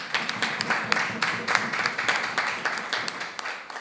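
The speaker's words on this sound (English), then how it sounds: "Final round of applause." A debate competition audience gives a final round of applause, a steady wash of many hands clapping with sharp accents, close and sustained without talk.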